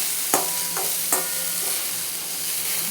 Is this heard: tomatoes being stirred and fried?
yes